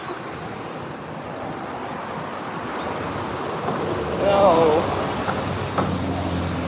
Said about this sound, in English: here comes a really big bus